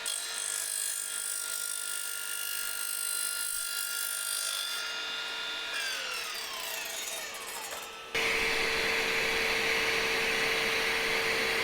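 A cordless 2x20V miter saw (R255SMS-DB-Li) cuts through 3/4 inch copper pipe. A steady motor whine runs throughout, then turns into a louder, harsher broadband cutting roar for the last few seconds, with no talking.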